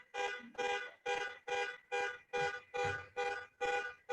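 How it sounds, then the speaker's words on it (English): A car alarm sounds outside, heard indoors at a fairly low level: nine evenly spaced, identical electronic honking pulses repeat in a steady rhythm with short gaps between them. "That's not my car alarm."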